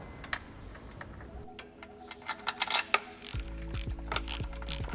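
Metal tools work the balancing bolts of a rebuilt Mercedes S65 AMG V12 engine, giving quiet ticking and ratcheting clicks in an irregular series, close by, over a low steady hum.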